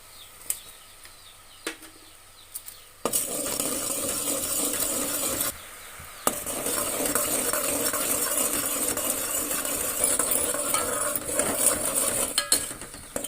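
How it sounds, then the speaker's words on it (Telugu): A spoon stirs thick jaggery syrup for sesame chikki in a pan on medium flame, steady scraping and bubbling sizzle close up, starting after a few quiet knocks and continuing almost without pause. "ఇలా కలుపుతూ ఉండాలండి"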